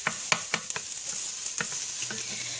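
Finely diced vegetables sizzle in a hot pan while being stirred for a baked meatball ziti, a steady frying hiss broken by sharp scraping and clicking stir strokes, close and with no talk.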